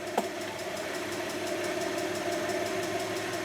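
A car engine idles steadily at moderate volume with a faint, even knocking pulse while the starter is pushed, a brief click near the start and no talking.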